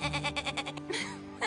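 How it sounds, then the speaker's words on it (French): A small goat bleats in a quick run of wavering, nasal calls, close and fairly quiet, followed by a brief pause and another short bleat at the end. "ce qui me manque le plus, c'est mon adorable petite chèvre"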